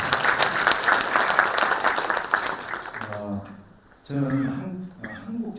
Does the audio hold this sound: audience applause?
yes